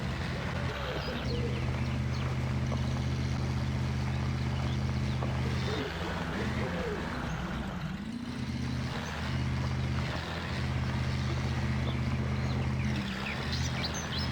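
Monster truggy truck engine in the Spintires off-road driving game drones steadily at low pitch, with brief dips and surges as the load changes, and a voice talks over it in stretches.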